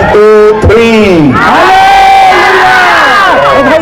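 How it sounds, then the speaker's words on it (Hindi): A church congregation at a Hindi-language Christian service shouts hallelujah in unison, a loud, sustained, close crowd roar of many voices that rises, dips briefly and swells again. "आइए हम जोर से हालेलुया का नारा लगाएंगे, 1 2 3।"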